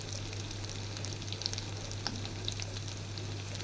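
Salt, turmeric and chili powder fry with tomato paste in a pan for a pabda fish curry, a soft continuous sizzle with faint scattered crackles over a low steady hum.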